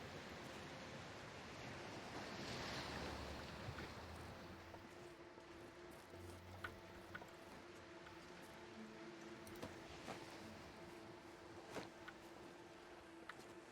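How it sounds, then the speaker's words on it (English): Ocean waves wash in a soft, broad hiss that swells early and then settles into a faint, steady wash, with light wind and a few small knocks in the background. "A variety of soothing sounds to put you to sleep. And one of them is ocean waves."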